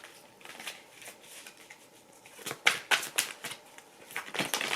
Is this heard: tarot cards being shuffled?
yes